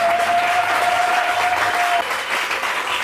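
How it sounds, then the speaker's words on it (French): Church congregation applauding loudly for the Lord, a steady dense wash of clapping at full volume with no pause, while a sustained electronic tone hums beneath it for the first two seconds. "Est-ce que tu peux acclamer très fort pour le Seigneur?"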